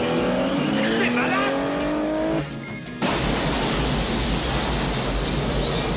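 A car chase on a highway in a Clint Eastwood film, with loud engines roaring and tires squealing, a pitched whine sliding upward, then a sudden cut to dense, rushing traffic noise.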